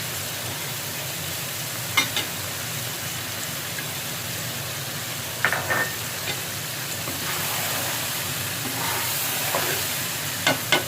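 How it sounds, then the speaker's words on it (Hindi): Peas and carrots fry in oil in a pan for a vegetable chicken biryani, a soft continuous sizzle with occasional sharp clicks of a utensil stirring against the pan. "तो ये मटर थोड़े फ्राई हो गए, इसके बाद हमने इसमें डालनी है गाजर"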